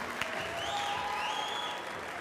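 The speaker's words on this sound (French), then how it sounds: "On peut applaudir, mesdames et messieurs, Karine Kaloudjian." An audience at a French cheesemongers' competition claps steadily and loudly for a couple of seconds, a dense, even wash of applause.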